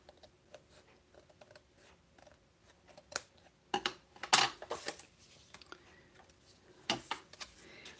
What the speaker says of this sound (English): Hopefully I can cut straight.